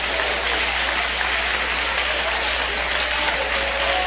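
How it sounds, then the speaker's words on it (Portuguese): A Pentecostal church congregation claps hands during worship in a dense, even wash of applause that stays loud and unbroken throughout, over a low steady hum, with no voices standing out. "Eu quero ouvir palmas misturado com glória a Deus."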